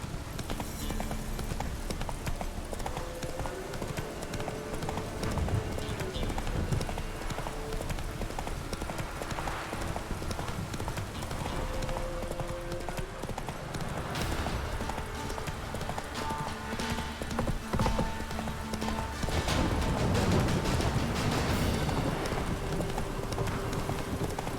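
In The Witcher 3 Next-Gen, the horse Roach gallops with steady, rapid clip-clop hoofbeats over a continuous outdoor game ambience, close and even throughout.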